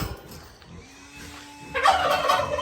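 Turkeys break into loud, rapid gobbling partway through, following quieter farmyard sounds and a faint mechanical whine.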